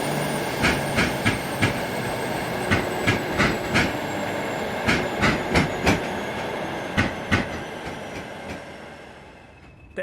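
A prototype Class 53 Falcon diesel train in a train simulator game runs past with a steady rumble and a rhythmic clickety-clack of wheels over rail joints, fading slightly toward the end, with no voices.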